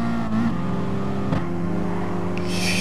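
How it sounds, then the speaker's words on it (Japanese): A Ford Mustang engine roars with a heavy, deep, steady drone, close and loud, with a brief surge partway through and a higher whine rising near the end; no talk. "すごいやっぱマスタングのエンジンの音重い感じ"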